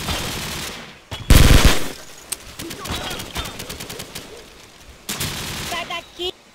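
Rapid bursts of Call of Duty gunfire, automatic fire rattling in quick volleys with scattered single shots and sharp loud spikes.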